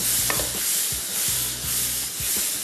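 Chicken being stirred and fried in a pan, a steady sizzle under repeated scraping strokes of a spoon, close and fairly loud, with no talking.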